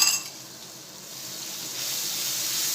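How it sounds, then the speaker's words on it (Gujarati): Masala paste and garlic chutney frying in oil make a steady sizzle with a soft clink at the start, fading briefly and then swelling into a brighter, louder hiss. "હવે આ સરસ પેસ્ટને આપણે તેલ છૂટે ત્યાં સુધી આપણે આ મસાલા પેસ્ટને તળવી લઈશું"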